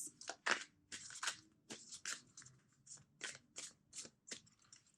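Cards being shuffled up close, a quick series of crisp riffling bursts, each a papery flutter, repeating steadily with short pauses between.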